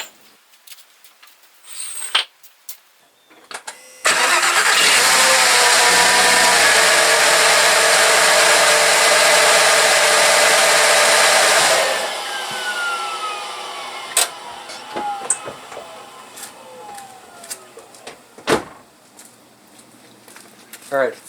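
A VW Jetta engine with an eBay skid plate fitted, pressed close against the pump, starts up and runs loudly for about eight seconds as a dense, steady roar, then cuts off, followed by quieter clicks and rattles.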